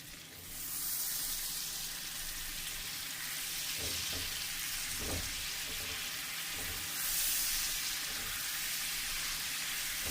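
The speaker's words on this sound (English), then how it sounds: "just stir it for a minute, let those milk solids cook out." Butter browns in a pan with a steady, soft sizzle and bubbling while being stirred now and then; faint scraping strokes sound under the continuous frying hiss.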